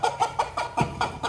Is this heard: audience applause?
no